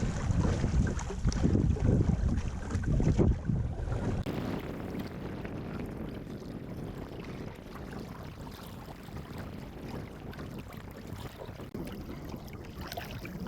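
Wind blows across Phillips Lake in Algonquin during a canoe fishing trip break, a broad rushing roar that buffets hard for the first few seconds, then settles into a steadier, softer gusting with faint water movement.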